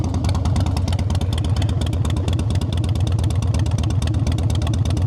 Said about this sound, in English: In my opinion, this is the best sounding Harley motor I've heard.